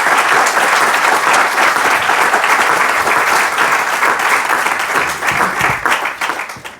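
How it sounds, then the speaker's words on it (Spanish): A crowd at an evening book presentation gives a loud round of applause, dense steady clapping that tapers off toward the end. "Aplauso"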